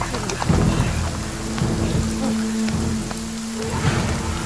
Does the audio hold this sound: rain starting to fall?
yes